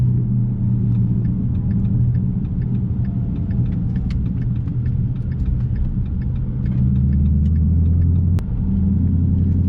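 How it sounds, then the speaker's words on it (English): A manual transmission car cruises in a lower gear after a downshift from fifth, its engine a loud, steady low rumble with faint ticking over the drone and one brief click near the end. "I downshifted here. This gives me more power than if I was just in 5th gear."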